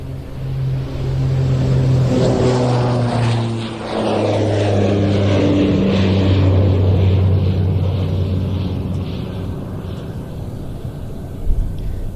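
Military aircraft departing the Royal International Air Tattoo 2025 airfield on departures day: a loud, continuous engine drone with steady low tones that rise and shift in pitch as the aircraft passes, heard alone.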